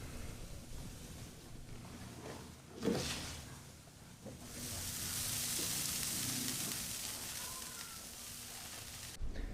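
Red snapper with lemon is laid on a grill and starts sizzling, a soft hiss that swells into a steady broad sizzle after a brief clunk of handling, fairly quiet and close.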